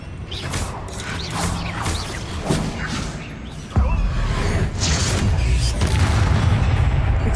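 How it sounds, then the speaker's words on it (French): Explosions in the video game Hogwarts Legacy: loud booming blasts with crashing debris and whooshes, including a heavy low impact midway, over a dense continuous game soundscape. "Explosion."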